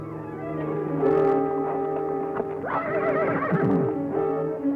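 A horse in an old Western outdoor scene gives a loud, close whinny, a single rising and falling neigh with a faint shuffle of hooves around it.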